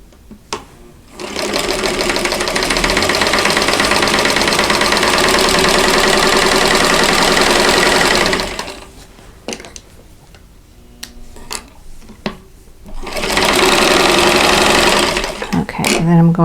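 A sewing machine stitching a quilt block runs in two loud, steady whirring bursts, one long and one shorter, with a quiet pause between them.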